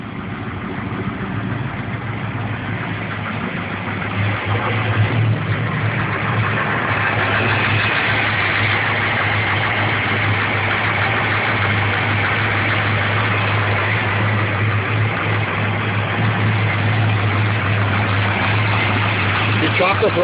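A car engine with a throttle position sensor fault idles with a steady low hum, its note rising slightly when the throttle is blipped, running continuously up close.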